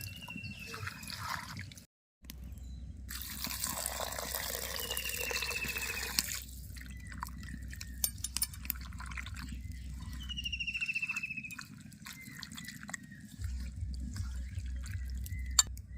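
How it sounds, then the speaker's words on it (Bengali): Water poured into fish curry in a pan: soft trickling and splashing of liquid, fairly faint and close, with dripping sounds over a low background hum and brief pauses. "এবার পরিমাণ মতো জল দিয়ে দেবো"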